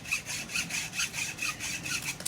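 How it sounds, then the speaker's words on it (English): A hacksaw cuts through a soft cassava stem with rapid, even back-and-forth rasping strokes, close and clear, about four or five strokes per second with no talk. "I find the hacksaw really easy. It's a very soft wood"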